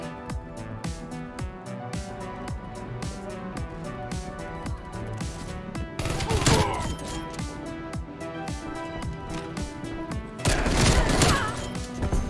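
Bursts of KSP 45 submachine gun fire in Black Ops Cold War rattle over steady background music, with two louder, denser volleys standing out near the middle and the end.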